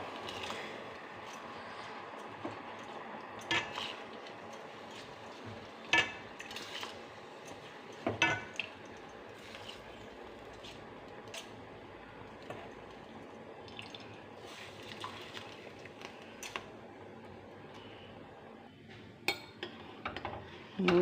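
Rice goes into a cooker pot and is stirred with a utensil, with scattered metallic clinks and scrapes, light splashes and drips, fairly quiet and close, with pauses between bursts.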